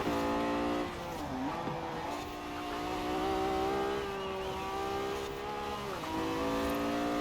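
A Lamborghini Diablo GTR in the Forza Horizon 4 racing game drones steadily through corners, its engine note dipping and rising with gear changes and throttle, with faint tire squeal blended in and no talk.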